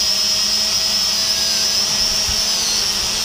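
An SJRC S30W GPS drone hovers in place, its propellers producing a steady high-pitched buzzing whine, constant and fairly close with no talking.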